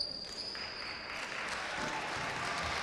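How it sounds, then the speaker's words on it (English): Supporters applaud at a ladies' college basketball All Ireland final, a fairly faint, dense patter of clapping from a crowd in an indoor arena, sustained throughout the brief moment. "getting an excellent round of applause from the supporters"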